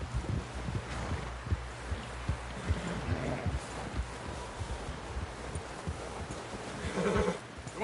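Horse hooves clop steadily under a noisy rain-and-rustle backdrop in a PS4 game scene, with a brief whinny-like burst near the end and no clear speech.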